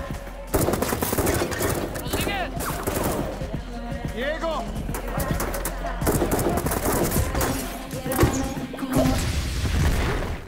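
Dense rapid gunfire and crashing impacts continue throughout, mixed with booms and chaotic action noise, loud and busy.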